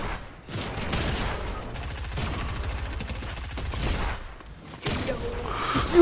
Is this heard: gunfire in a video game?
yes